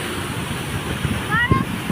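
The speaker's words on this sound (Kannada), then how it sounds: "ಅಷ್ಟು ಫೋರ್ಸಾಗಿ ಬರುತ್ತೆ ನೀರು." Water from a Kaveri river pipeline gushes out forcefully, falling like a waterfall. It makes a steady, broad roaring rush while a person talks over it.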